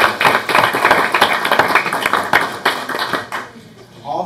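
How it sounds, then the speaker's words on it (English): Applause for school staff at a board of education meeting, a dense crowd clapping steadily for about three seconds before fading, with room noise and a faint voice at the end. "they deserve a great big recognition round of applause"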